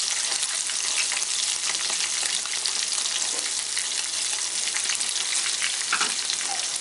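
Sardines fry in a pan, a steady dense crackling sizzle that holds loud and even throughout with scattered pops, heard close and alone.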